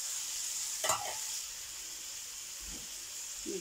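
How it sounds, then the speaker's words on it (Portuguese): Sausages fry in a pan with a faint, steady hiss of hot fat, broken by one brief clatter of a utensil near the start and a couple of soft knocks later, heard alone at low volume. "E deixar isto aqui fritar aqui um pouquinho."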